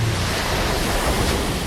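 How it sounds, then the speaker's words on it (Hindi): Steady ocean surf washes around the island prison of Alcatraz, a continuous broadband rush of breaking waves mixed with wind, loud and close, with no voices. "चारों तरफ समुद्र"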